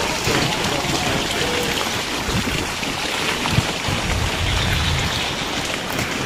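Steady rain pours outdoors near a riverbank, a dense continuous hiss of drops with gusty wind buffeting the microphone and no voices.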